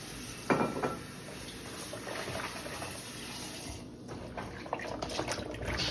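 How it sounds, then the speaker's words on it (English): Food is washed under running water with a little apple cider vinegar, tap water splashing steadily in a sink with a few louder sloshes and splatters throughout. "I'm gonna wash that off with some water and a little vinegar to cleanse it, with the apple cider vinegar."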